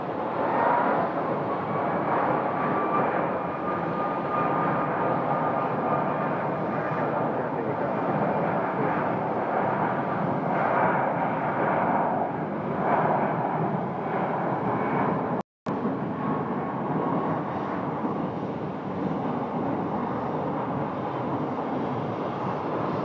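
United airliner at Phoenix Sky Harbor Airport, Terminal 4, with a steady broadband engine roar and jet whine droning on continuously at moderate distance, no talking over it.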